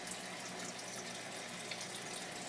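Water from a drip tube falling into the return chamber of a 72-gallon saltwater bowfront aquarium, heard as a steady, dense splashing wash with no pauses, close and moderately loud.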